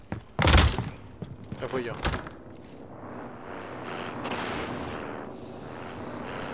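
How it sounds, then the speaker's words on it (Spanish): Gunshots and explosions at a port: two sharp, loud bangs close together near the start, then further distant booms and cracks under a voice speaking over the scene. "Hay disparos en el puerto, escucho explosiones en el puerto."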